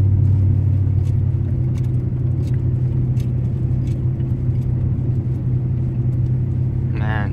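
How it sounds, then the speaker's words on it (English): A four-wheel-drive car travelling a foggy road at speed, its engine and tyre roar forming a steady, loud low rumble throughout, with faint clicks and a short rattle near the end. "I've been driving from the fort."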